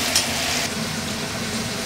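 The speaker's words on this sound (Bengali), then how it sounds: "দিয়ে এইভাবে আলুটাকে একটু ভেজে নেব" Potato pieces fry in a pan with salt and turmeric, giving a steady, close, dense sizzle that holds an even level throughout.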